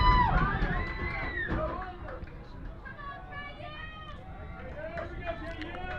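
Crowd at a college field hockey NCAA first-round game urging on the Cougars ahead of a late corner, a mix of shouts and cheering in the distance while a commentator talks over it.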